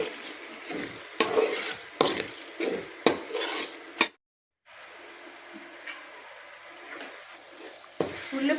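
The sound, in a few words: stirring onion and tomato curry in pan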